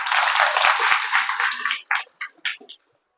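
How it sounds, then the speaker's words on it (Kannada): A temple gathering audience claps in a dense, loud burst of applause that thins out into a few scattered, separate claps before stopping. "ಜೋರಾಗಿ ಎಲ್ಲರೂ ಚಪ್ಪಾಳೆ ತಟ್ಟ"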